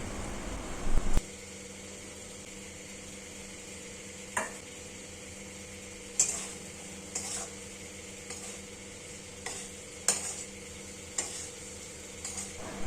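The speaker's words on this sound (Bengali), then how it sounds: "মশলার সাথে আলুগুলো ভালো করে কষতে থাকবো।" Fried potatoes are stirred into spice masala in a pan, a low sizzle under a series of separate spoon scrapes and clinks against the pot, no talking.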